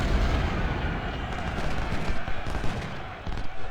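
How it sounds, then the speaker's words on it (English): Dense Civil War artillery fire in the Ultimate General: Civil War game's Gettysburg battle, a continuous roar of overlapping cannon blasts and gunfire, loud and close with no talk. "Now my artillery can light up these guys."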